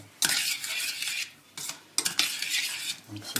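A spoon stirs bouchée à la reine filling in a pan, giving bursts of scraping and clinking with short pauses between strokes, close and fairly quiet.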